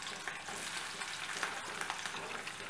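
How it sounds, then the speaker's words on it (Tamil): Onions frying in a pan for Tamil kara chutney, a steady close sizzle with faint crackles and the scrape of stirring, with no voices. "வெங்காயம் போட்டு நல்லா வதக்கிக்கோங்க."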